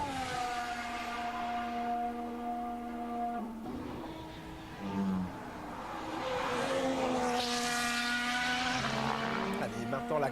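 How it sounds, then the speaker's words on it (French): A Ferrari Formula 1 car accelerates hard at Suzuka during 2024 Japanese Grand Prix qualifying, its high engine note climbing steadily through the gears, loud and close, with a commentator talking over it. "Allez, maintenant la grande longue accélération sous les yeux de Frédéric Vasseur jusqu'à la dernière chicane"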